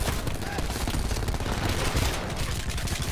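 Call of Duty Black Ops 4 gunfire, a dense and continuous burst of rapid shots that stays loud and close throughout, with no speech.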